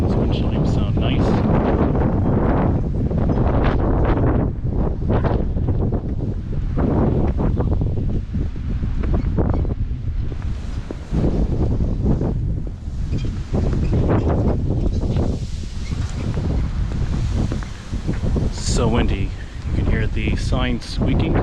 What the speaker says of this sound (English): It's so windy today.